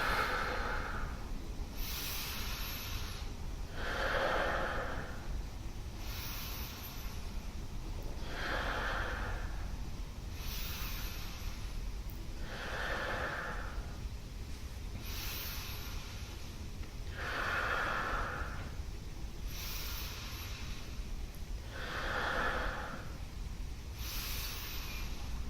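Deep, rhythmic breathing repeated in a steady cycle of about eight strong inhale-exhale pairs, each a loud, close, airy rush through the nose and mouth with brief pauses between, continuing alone without talk during a Wim Hof breathing session.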